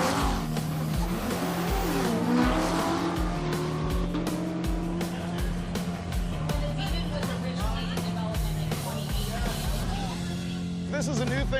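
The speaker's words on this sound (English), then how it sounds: "That's a couple of Ram TRX trucks, Hellcat powered." A pair of Hellcat-powered Ram TRX trucks roar through a drag race, loud steady engine drone with rapid rhythmic pulses and tire noise. Someone talks over the din.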